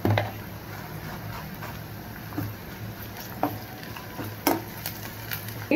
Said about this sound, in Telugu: ఇప్పుడు మీరు అల్లం వెల్లుల్లి పేస్ట్ వేసుకోండి ఒక అర స్పూన్ సరిపోతుంది